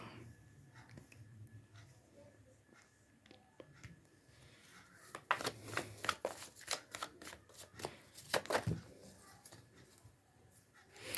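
Tarot cards are shuffled in a burst of quick riffling slaps, close and fairly quiet, with softer handling rustles before and after.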